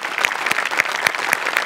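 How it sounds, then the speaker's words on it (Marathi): A studio audience on a comedy show claps after a singing performance, a short burst of rhythmic, fairly even applause. "जोरदार टाळ्या"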